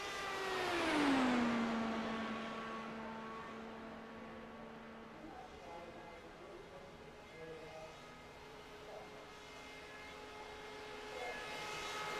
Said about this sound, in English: You can hear the sound of another engine.